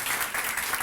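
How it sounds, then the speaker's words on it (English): Audience applause for a colleague at a gathering on police brutality, a brief burst of dense clapping with no voices. "Please give her a round of applause."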